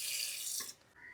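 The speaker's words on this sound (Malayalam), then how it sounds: "ഇച്ചിരി വെള്ളം ഒഴിക്കണം, ശകലം വെള്ളം മതി" A little water pours into a pressure cooker while making hotel-style masala for masala dosa, a steady close hiss and splash that stops abruptly, followed by a fainter trickle.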